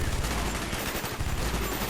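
Sustained automatic gunfire fills the Vorkuta mission of the video game Call of Duty: Black Ops, with loud, continuous bursts and no pauses or talking.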